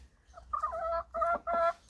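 A chicken clucks up close in three quick, tonal bursts, each a short rising-and-falling call in a quiet yard.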